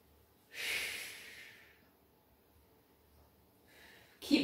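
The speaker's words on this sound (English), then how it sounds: "So it's breathing out, lift, breathing in lower." A close, quiet exhale during a Pilates exercise, one long airy breath out that fades, then a softer intake a few seconds later.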